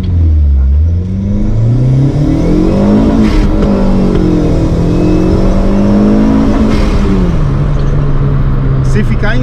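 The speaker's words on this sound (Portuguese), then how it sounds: "Você se diverte muito com um carrinho meu turbo." A turbocharged Chevrolet Celta engine revs loudly and steadily while driving, its pitch climbing and falling across gear changes, with someone talking over the drone throughout.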